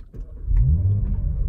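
A 2019 Audi RS5 Sportback engine starts up close, with a short crank followed by a deep, throaty roar that swells quickly and then holds as a rumbling idle.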